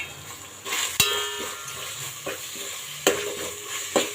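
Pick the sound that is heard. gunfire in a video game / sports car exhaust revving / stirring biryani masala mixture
stirring biryani masala mixture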